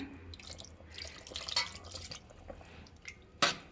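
Water splashing and dripping into a cooking pot while making naati-style batter chicken chops, faint and close, with scattered splashes and one sharper splash near the end.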